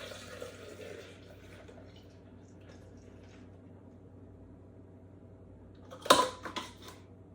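Orange sherbet mixture is poured into an ice cream maker, a soft low liquid trickle that ends in a brief louder splash and gurgle, with no talking.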